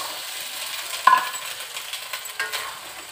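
Ginger and chili sizzle steadily in a hot pan with oil, a close crackling hiss punctuated by a few sharp scrapes and clinks of a spoon stirring, with no talking.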